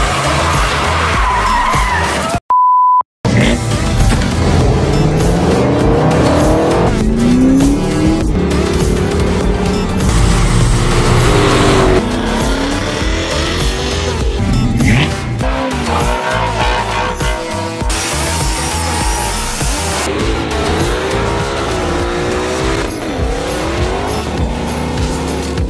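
2009 Ford Mustang V6 Premium Warriors in Pink edition driving hard, tires squealing and skidding repeatedly over a revving engine, loud and sustained with a brief dropout early on.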